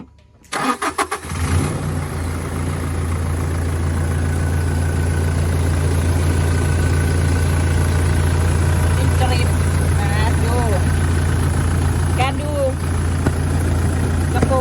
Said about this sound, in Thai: เดี๋ยวเดิ๋ยสตาร์ทให้ฟังเสียง เครื่องยนต์